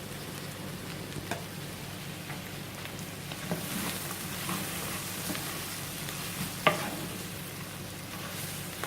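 Salt and pepper chips fry and sizzle in a pan with seasoning stirred through, a soft steady crackle under occasional scrape and tap sounds of the stirring.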